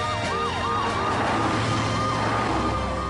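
A toy ambulance car sounds a steady electronic siren with rising and falling wails, loud and continuous throughout, over some mechanical whirring.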